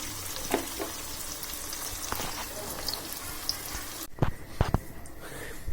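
Ingredients sizzle and crackle in hot oil in a kitchen pan, a meal of chicken on the bone with bottle gourd. The frying is steady, with a few sharper pops and stirring sounds near the end.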